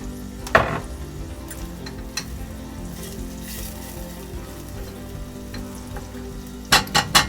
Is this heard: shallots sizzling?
yes